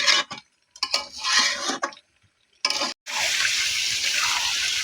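Water is poured in bursts into a pot of spiced duck meat curry to make the broth, splashing loudly with short pauses before a sustained rushing pour.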